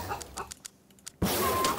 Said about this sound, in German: Ich schieße mit so vielen Hühnern.